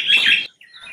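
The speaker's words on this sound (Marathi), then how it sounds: "कर्कश आवाज म्हणून कलहप्रिया हे हिचे समर्पण" A common myna gives a harsh, rasping call, loud and close for about half a second, followed by a fainter, thinner note after a brief pause.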